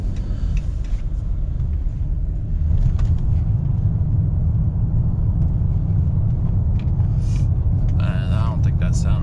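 A Chrysler 300 makes an unusual noise while driving. Continuous road rumble and drivetrain noise come from inside the car, with a few brief higher sounds near the end.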